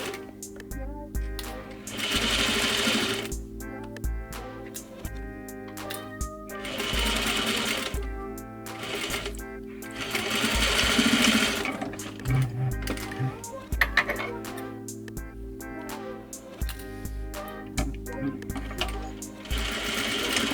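Sewing machine stitching a 1/4 inch seam that joins a trouser front leg to its pocket stay, running in steady rhythmic bursts with brief pauses between them, close and clear without any talk.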